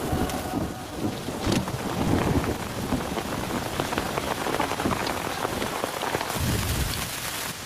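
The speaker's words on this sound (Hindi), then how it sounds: "यहाँ पर बारिश हो रही है" Heavy rain pours steadily onto surfaces nearby, a dense hissing patter with low rumbles, continuous and fairly loud with no talking.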